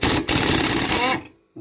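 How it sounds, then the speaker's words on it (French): An impact wrench with a 17mm socket loosens a lawn mower blade bolt in one loud, continuous buzzing burst of about a second, with a brief pause inside it, before it cuts off abruptly. "Donc clé à choc avec douille de 17."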